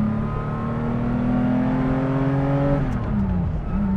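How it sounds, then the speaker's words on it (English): A Porsche 911 SC safari car with a near-stock engine drones loud and close while off-roading, its exhaust holding a steady note before the pitch shifts and dips near the end as the revs change. "Exhaust sounds sensational, by the way"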